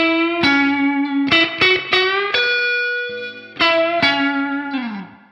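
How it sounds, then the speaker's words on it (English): Electric guitar played through a Crazy Tube Circuits Crossfire overdrive with a Strymon Flint reverb in its effects loop: sustained, slightly driven notes and chords with a lingering reverb tail, loud and close, no talking. "You might hear that I've got some reverb going."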